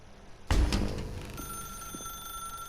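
In The Stanley Parable: Ultra Deluxe, a telephone rings with a sudden loud electronic bell burst that leaves a sustained ringing tone fading over a couple of seconds, with no voices.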